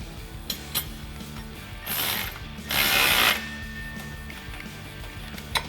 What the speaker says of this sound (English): We're going to use an 8mm hex head socket in order to tighten these down.